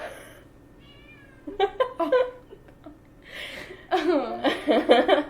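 A pet cat meows several times in short, close, drawn-out calls, with soft laughter and chuckling from people nearby between and under them.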